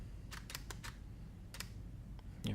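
A camera shutter clicks several times in quick, sharp bursts, firing for the next exposure in an ISO test, with a steady low hum underneath and no talking.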